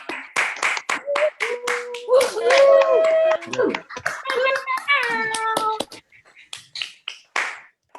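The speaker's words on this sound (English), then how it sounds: "you can open up those microphones, and just give a cheer loudly for BETCo" A group of people on a Zoom call cheer and clap loudly through open microphones for a theatre company's quarantine show, with overlapping voices, whoops and scattered claps over several seconds.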